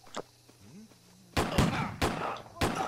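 Pistol fire from The Church in the Darkness, with a few loud, sharp gunshots in quick succession after a brief quieter stretch with a faint low sweeping tone.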